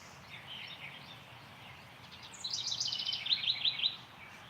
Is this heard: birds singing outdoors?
yes